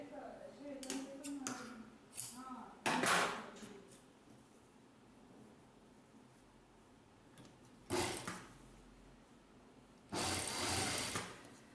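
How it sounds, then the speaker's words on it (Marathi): A sewing machine runs in short bursts while stitching a folded fabric strip for a baby jumpsuit, its quick mechanical rattle alternating with quiet pauses and faint handling noises nearby. "घडीच्या विरुद्ध बाजूला पाव इंचाच्या अंतराने शिलाई मारून घेणार आहे"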